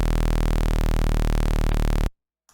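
A synth bass built from a raw saw wave with added noise and pitch automation: a loud, dense, buzzing sustained tone holds for about two seconds, then cuts off abruptly, leaving near silence and a faint blip.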